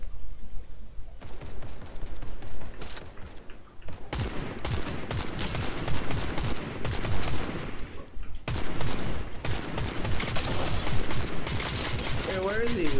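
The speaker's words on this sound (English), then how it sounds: "Oh, so much shooting." Rapid bursts of gunfire and fusillades from a Fortnite match crackle close and loud in dense volleys, broken by short lulls, with a player's voice talking underneath.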